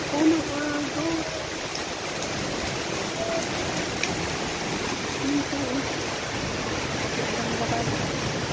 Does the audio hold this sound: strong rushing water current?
yes